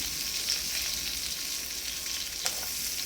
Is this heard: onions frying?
yes